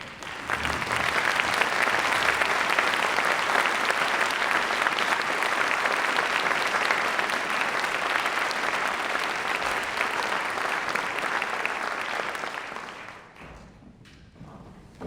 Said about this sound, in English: stand up and accept a round of applause